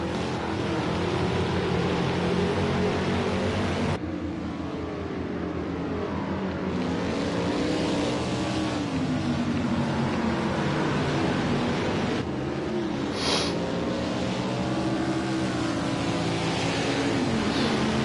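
Race cars run at Sonoma in a racing sim, a loud unbroken engine roar with pitch sweeping up and down as the cars shift and pass, and no voices.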